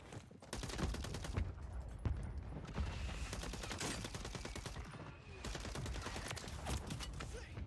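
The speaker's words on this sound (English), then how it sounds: "Friendly mortar strike on the way." A friendly mortar strike landing during a Call of Duty Warzone Rebirth match: dense, loud, rapid-fire bursts of booming impacts that roll on almost without a break.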